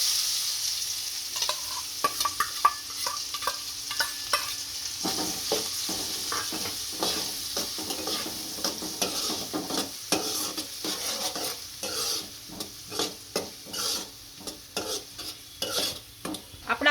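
Onions and whole cumin sizzle steadily in a pan for bhindi masala while a spoon stirs and scrapes in repeated bursts, close and continuous throughout.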